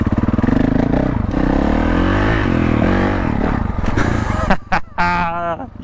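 Honda CRF450L motorcycle engine revving hard while riding on factory gearing with no clutch, a loud continuous drone that surges and drops in pitch, then breaks into sharp bursts near the end.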